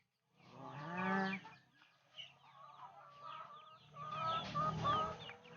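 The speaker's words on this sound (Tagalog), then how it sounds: "Yan naman guys ay Rhode Island Red na babae. Yan, kumakain sila." Rhode Island Red hens cluck and chatter while feeding on a free-range chicken farm, a close burst of calls, a quieter murmuring stretch, then another lively run of overlapping clucks, no speech.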